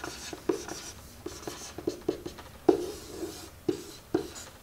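Marker or chalk strokes on a board as the area formula for a triangle is written out, a series of short, close scratching taps in an irregular rhythm, each stroke distinct against a quiet room.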